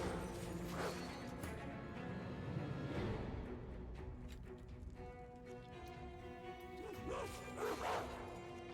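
A dog barking in the fantasy role-playing game Divinity: Original Sin 2, a few quiet yips and barks set under a soft, steady layer of game music and ambience.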